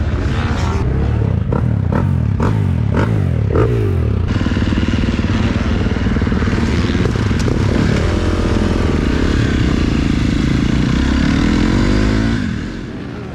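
A motocross bike fitted with a vented airbox and twin air filters rips around the Glen Helen track, its engine revving hard and close with sharp throttle bursts, then a sustained loud run that fades at the end.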